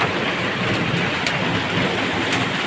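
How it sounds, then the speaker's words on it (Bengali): A heavy hailstorm pours down in a dense, continuous roar of pelting ice and rain, loud and unbroken, with no voices. "আজকে প্রচন্ড শিলাবৃষ্টি।"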